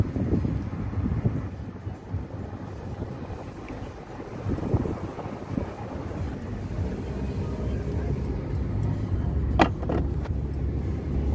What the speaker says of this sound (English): Mexican traffic jam.